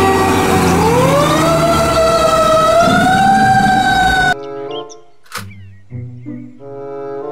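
A toy fire truck siren wails loudly in a continuous rising and falling tone for about four seconds, then cuts off abruptly and gives way to short, quieter electronic tones and beeps.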